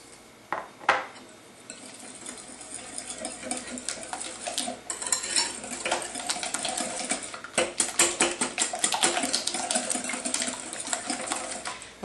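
Sugar is stirred into an egg mixture for lemon curd in a metal double boiler, giving irregular clinking and scraping of a utensil against the bowl, with quick taps and swishes that rise and fall throughout.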